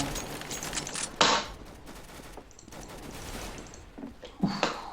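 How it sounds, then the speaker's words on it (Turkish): Rapid gunfire in the video game Counter-Strike: Global Offensive, a few bursts of sharp shots with a louder cluster near the start and another near the end, fairly quiet overall. "Kurşun yakından, sol yanımdan."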